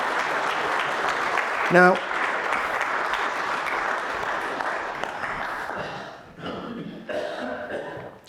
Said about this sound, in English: can we have a round of applause for our other poet?